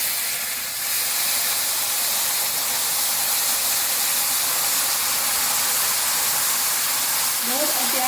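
Hot sugar syrup poured gradually into roasted semolina for suji halwa, giving a steady loud hissing sizzle with steam that holds for the whole stretch, close and continuous.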